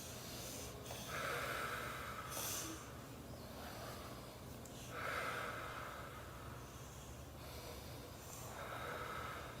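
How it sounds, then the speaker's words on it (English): Three slow, deep breaths, each a loud, close inhale followed by an exhale, evenly spaced and heard alone without talking. "Let's take 3 deep breaths."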